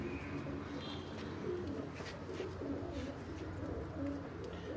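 A pigeon cooing softly while held in hand, low throaty coos repeating over a steady background murmur, faint and close.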